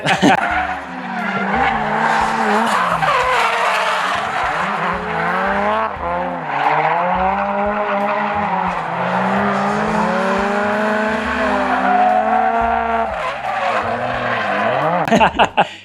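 A built Nissan S15 Silvia with an SR20 engine drifts, its tires squealing loudly and continuously while the engine wails and rises and falls close by.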